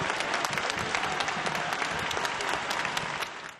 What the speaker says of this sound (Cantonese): 整個廣場爆發出熱烈嘅掌聲。